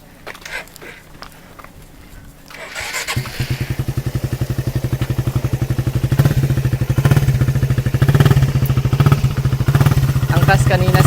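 A KTM RC200 motorcycle engine on a ride builds from a quiet start into a loud, rapid, throbbing putter that grows steadily stronger, with brief voices and clatter near the beginning.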